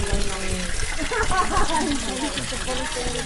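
Iron-rich red spring water at Chalice Well in Glastonbury flows and trickles steadily nearby, while people talk over the continuous splashing.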